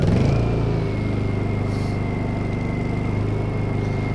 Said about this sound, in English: you just pull the cord and it should start right up